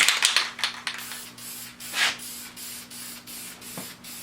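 Clear coat sprayed from an aerosol can onto a wooden garden chair in short, hissing bursts, close and fairly loud, several quick pulses followed by longer sweeps, with a steady low hum in the room behind.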